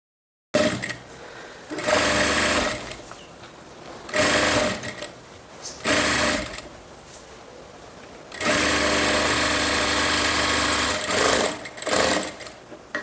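A sewing machine stitches a kurti in several bursts of steady, loud mechanical whirring with short pauses between runs, close by and with no talking.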